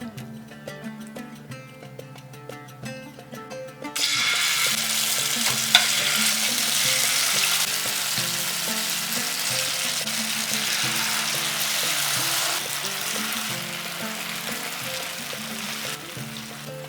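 Marinated paneer hits hot oil seasoned with whole cumin and a cinnamon stick, bursting into a loud, steady sizzle after a quieter start, with occasional scrapes as the pieces are gently turned in the pan.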